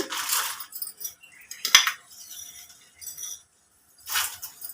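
Coriander seeds are tipped from a spoon into a frying pan, giving soft rattling pours and a sharp metallic clink, quiet and close, with short pauses between.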